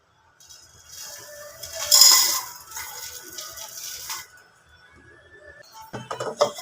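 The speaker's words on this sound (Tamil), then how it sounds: "இப்போ நம்ம தேவையான இந்த பொருள்கள் அத்தனையுமே நம்ம எல்லாம் ஒன்றா போட்டு வறுத்துக்கலாம்." Black urad dal and the other idli podi ingredients are dry roasted together in a pan, giving light clinks, rattles and scraping stir sounds that swell, then ease off, with a brief clatter near the end.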